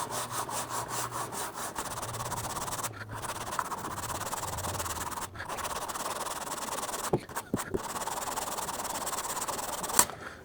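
Hand sanding of car body repair with a sanding block and 80 grit paper makes a continuous coarse scratching rasp in close, rhythmic strokes, broken by several short pauses.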